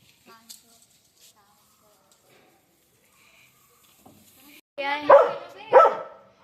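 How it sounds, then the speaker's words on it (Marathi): A dog barks twice near the end, loud and close, after a long stretch of near silence with only faint scattered sounds. "कामवाली काम करत नसल्यामुळे कुत्रा भुंकून राहिला आहे"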